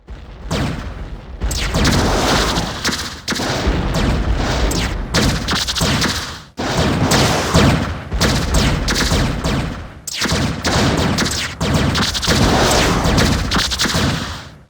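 Sustained gunfire in the video game X-Com Apocalypse, an illegal flyer shooting at police, forming loud dense bursts of rapid shots separated by brief gaps over about fifteen seconds.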